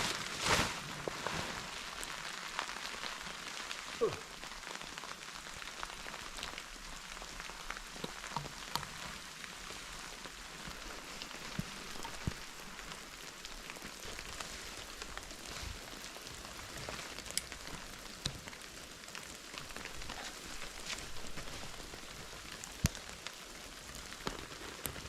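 Rain patters steadily on a tent and tarp at a campsite, a soft, continuous wash of drops with occasional sharper taps, fairly quiet and with no voices.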